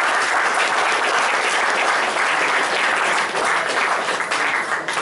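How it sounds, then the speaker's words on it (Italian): Applause for Giovanni Guidi at a Florence public debate on constitutional reform, a dense, steady clapping from a crowd that fills the whole stretch at high volume with no break. "direi possiamo dedicargli anche un applauso"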